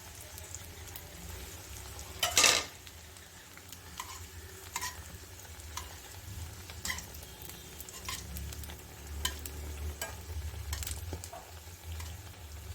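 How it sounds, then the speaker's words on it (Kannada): Bread slices frying in hot oil give a steady, moderate sizzle with soft crackles, plus a sharp clink or scrape near the start and occasional light taps throughout. "ಅದನ್ನು ಎಣ್ಣೆಯಲ್ಲಿ ಜಸ್ಟ್ ಗೋಲ್ಡನ್ ಬ್ರೌನ್ ಬರೋವರೆಗೂ ಫ್ರೈ ಮಾಡಿ ತಗೋಬೇಕು"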